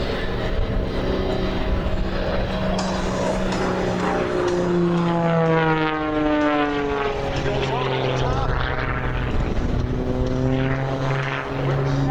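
A Pitts S-2S propeller aerobatic biplane flies an airshow routine, its engine drone sweeping up and down in pitch as it passes, loud and continuous beneath an announcer's voice.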